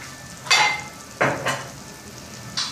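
Garlic hitting a hot pan for Tunisian-style lazania, giving three short bursts of sizzle and stirring against a quiet kitchen background, with no one speaking.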